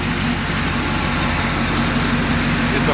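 A 350 V8 running in a 1966 Chevrolet C-10 pickup, fast-idling high around 1600 RPM with a steady, loud low rumble and no break in its throb.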